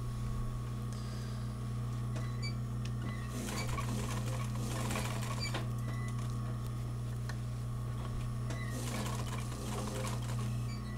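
An embroidery sewing machine stitches yarn onto fabric, running as a steady loud mechanical drone with bursts of faster rattling needle action, alone without talk.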